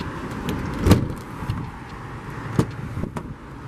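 A 2016 Ford Transit-350 passenger van door swings shut with a solid thud, followed by a second softer clunk and faint rattles, close by in a quiet setting.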